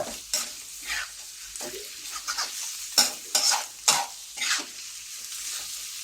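A long-handled spatula scrapes and tosses food in a hot pan during a Korat-style stir-fry, making a quick run of sharp scraping strokes over a soft, steady sizzle, close and loud.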